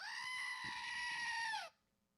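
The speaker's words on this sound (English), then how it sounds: "Make the goat scream." A goat scream sound effect plays as one loud, sustained, strained cry lasting under two seconds, then cuts off abruptly into near silence.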